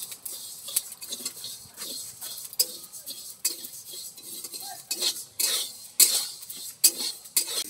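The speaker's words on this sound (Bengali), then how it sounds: "যে পেঁপেটাকে আমি কেটে নিয়েছি সেটাকে এবার ভালো করে মাখিয়ে নেব।" Ripe cut papaya being mashed by hand in a bowl, giving repeated soft squelches and light clinks of a utensil against the dish, close and steady, with no talk.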